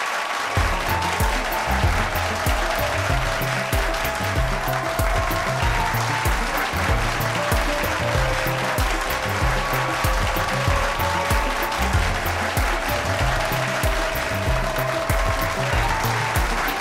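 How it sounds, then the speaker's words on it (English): A large crowd at Anant Ambani and Radhika's wedding sangeet cheers and claps for cricketer Hardik Pandya, the roar sustained and loud over thumping music with a pulsing beat throughout. "A biggest round of applause for Hardik Pandya."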